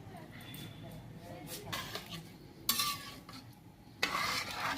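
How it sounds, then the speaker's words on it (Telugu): Salted rice is stirred in a pan with soft scraping and a few clinks of a spoon against the vessel, faint and close, under a quiet background hiss. "సో ఉప్పు వేసేసి ఒకసారి కలిపేసుకుందాం"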